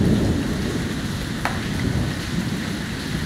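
Steady rain pours down in a dense, even hiss, with a low rumble of thunder beneath it and one brief sharp crackle near the middle.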